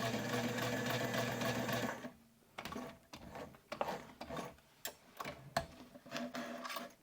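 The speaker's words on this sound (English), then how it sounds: "I am sewing with the wrong side up." Sewing machine stitching a wallet with the wrong side up, a steady close whirring run for about two seconds, then stopping into scattered clicks and handling taps.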